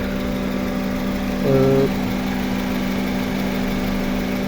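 A 2007 Honda Civic FD's 1.8 VTEC engine idles steadily with a smooth, even hum and no stumbles; a brief slight rise in pitch comes partway through.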